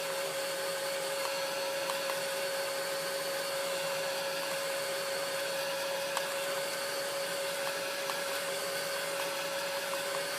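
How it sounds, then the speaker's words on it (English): Heat gun drying fixative over Pan Pastel stamping on paper: a steady, even blowing whir with a constant tone, running unbroken throughout at moderate level, with faint small ticks and no talking. "I always just hurry up and use my heat gun."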